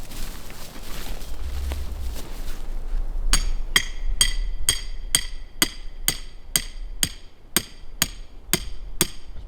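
Hammer driving a stake into ground with a root in it while building an off-grid hunting cabin, about a dozen loud, evenly spaced metallic strikes after some rustling.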